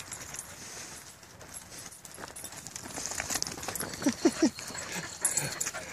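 A scared surrendered rescue dog moving and being coaxed through fencing with another dog nearby, faint paw shuffling and rustling, a few brief whimpers, and light panting outdoors.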